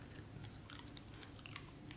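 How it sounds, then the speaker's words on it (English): A dog chews food with soft, irregular crunching and biting clicks, close by, over a steady low room hum. "he's chewing. He is chewing away."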